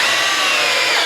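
A Milwaukee drill on high speed in drill mode drives 3-inch wood screws into wood, a steady loud whir with dense broadband grinding that holds without pause for about a second, no voices.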